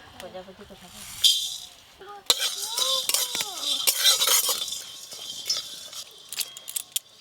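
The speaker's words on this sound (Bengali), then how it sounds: "টমেটোর চপের জন্য গোটা মশলাগুলো ভেজে নেব।" Whole spices sizzle and rattle in a hot pan as a spoon stirs and scrapes, with voices talking nearby.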